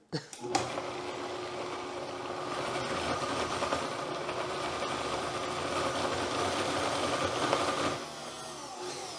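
A Vitamix blender churns date paste with a steady, loud whirring motor drone that holds for about seven seconds before cutting off, with a brief clunk at the start.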